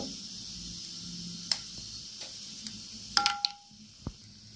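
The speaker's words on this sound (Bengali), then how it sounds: "কালো জিরে শুকনো লঙ্কা একটু ভেজে নেবো" Nigella seeds and a dried red chilli frying in hot oil, a soft steady sizzle with occasional sharp pops and metallic taps of a utensil against the pan.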